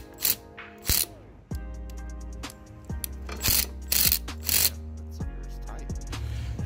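A socket tool works loose the positive battery terminal on a 2016 VW Jetta, giving a few short, close metallic clicks and ratcheting bursts with tonal ringing in between.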